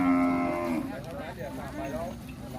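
Cattle moo loudly nearby at a cattle market in Phetchabun, Thailand, a long low bellow followed by more lowing calls amid a busy background.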